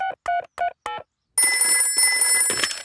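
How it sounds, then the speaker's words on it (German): A toy-like telephone rings in four short bursts with gaps, then a steady bright electronic tone and clatter continue loudly to the end, as in a cartoon household scene. "Armer Pedro, ich werde den Doktor anrufen."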